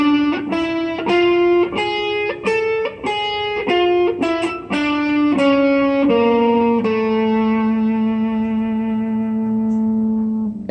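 Electric guitar runs through an A Phrygian dominant scale, a steady series of single picked notes with a slightly distorted, effected tone, ending on a long sustained low note, played alone with no talking.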